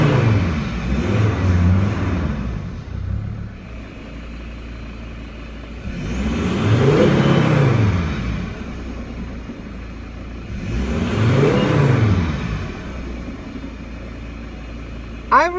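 A Mercedes Sprinter van's engine with a faulty turbo actuator idles roughly, surging in three slow swells every few seconds, the revs rising and sagging as though about to stall, heard close and steady without talk.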